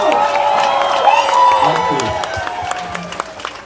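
A standing crowd of residents at an outdoor community address by a president applauds and cheers, a broad wash of clapping with voices and whoops rising through it, loud and sustained.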